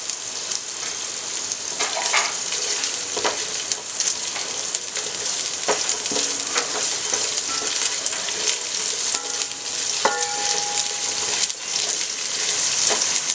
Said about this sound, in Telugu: బిర్యానీలో ఉల్లిపాయ మంచిగా వేగాలండి